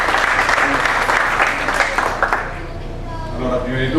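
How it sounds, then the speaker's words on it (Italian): Crowd applause aboard a cruise ship during a five-a-side football tournament presentation, loud continuous clapping that fades toward the end as a voice and background music take over. "Un applauso al tecnico Luigi Pagana."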